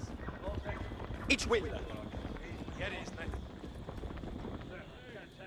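Cavalry hooves in the game Age of Empires IV clatter in a dense, rapid clip-clop of many horses running, while someone talks over the sound throughout.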